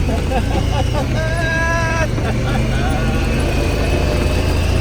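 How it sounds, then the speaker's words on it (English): A Honda Passport SUV pushes through mud, its engine droning loud and steady from start to finish, with a brief whining rise partway through. "Do a little mud driving here."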